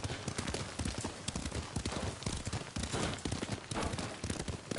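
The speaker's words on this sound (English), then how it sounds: "Lord Sakai taught me to ride a horse" Rapid rhythmic clip-clop of horse hooves at a gallop in a video game, continuous and fairly close, without talking.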